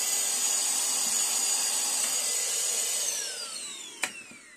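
A cordless Bulldog 18V rotary hammer drills with a dust extraction vacuum attached, giving a steady loud whining hum that winds down near the end, followed by a sharp click.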